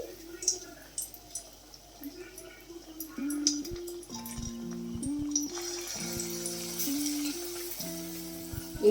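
Potato chops (aloo chop) sizzle in hot oil, a soft bubbling fry that grows busier and louder midway, heard up close under faint kitchen noises and a stretch of background music.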